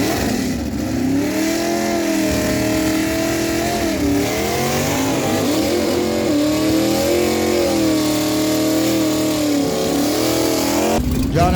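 A 73 Plymouth Duster and a Mustang at a drag strip, heard as a loud, close engine drone with rising and falling revs throughout, harmonics sweeping up and down before a brief burst near the end.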